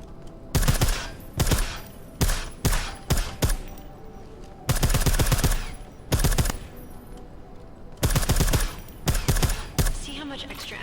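Suppressed weapon fire in Deus Ex: Mankind Divided comes in short, sharp bursts of quick shots separated by brief pauses, moderately loud against a low ambient background.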